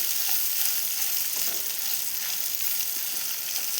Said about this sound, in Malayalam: ഞാനിപ്പോൾ ചെറിയ ഉള്ളിയാണ് എടുത്തിട്ടുള്ളത്. ഇത് നല്ലോണം വഴന്ന് വരട്ടെ.